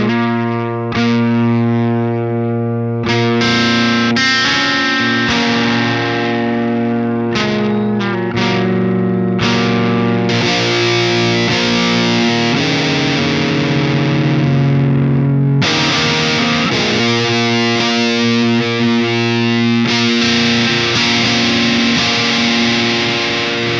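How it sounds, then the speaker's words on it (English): Distorted electric guitar through a Lichtlaerm Audio Altar pedal into an Orange 4x12 cabinet with Vintage 30 speakers: loud sustained chords and ringing notes with heavy saturation, played alone without talk. "we used a Sims Watts AP100 going into an orange 4x12 with vintage 30s"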